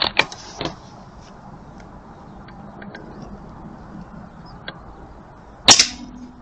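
Two sharp rifle gunshots crack while a scope is being sighted in, one at the start and a louder, closer one near the end, each with a short echoing tail over a quiet outdoor background.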